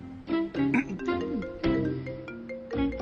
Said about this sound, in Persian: جواب ده به این تلفن.